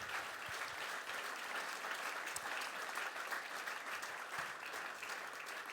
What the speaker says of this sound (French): Merci donc d'accueillir chaleureusement et avec vos applaudissements nos 4 grands témoins, Yuna Jost, Stéphane Deschamps, Sébastien Bo